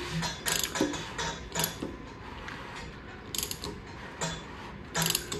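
Close ratchet clicks come in short bursts as the crankshaft of a Ford FE engine is rolled over by hand. The steady metallic ticking repeats several times with a low mechanical hum beneath it.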